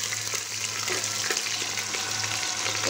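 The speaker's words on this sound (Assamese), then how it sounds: "এতিয়া এয়া কাটি থোৱা পিঁয়াজখিনি দিছো পুৰা ধোঁৱা হৈ গৈছে" Chopped onions fry in hot oil, a steady, dense sizzle with faint crackles throughout and no talking.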